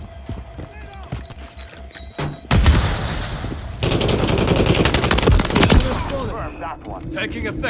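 Gunfire in Call of Duty: Modern Warfare III, rapid machine-gun bursts and single shots cracking close and loud over a battle din, with voices shouting through the fighting.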